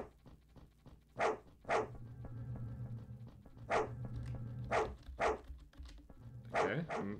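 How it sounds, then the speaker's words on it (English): Dogs in the video game Fear and Hunger give about eight sharp, loud barks in irregular pairs and singles over a low, steady droning background. "I'm pretty sure there's gonna be loud dog noises."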